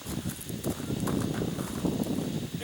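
A ridden horse walks along with its hooves clip-clopping in a quick, uneven patter, close by and fairly loud, over a low outdoor rumble.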